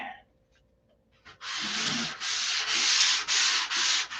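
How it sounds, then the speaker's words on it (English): Sandpaper rubbing over a control line stunt model airplane, a steady rasping scrape in long back-and-forth strokes with brief pauses between passes, close and loud after a quiet start. "if you listen to the sandpaper, it'll tell you a story"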